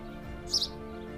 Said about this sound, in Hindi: पंछियों ने मंगलगान गाए हैं।